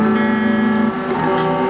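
A bright guitar, with its tone in the 6 kHz band, holds a sustained chord, then shifts to new notes, loud and close.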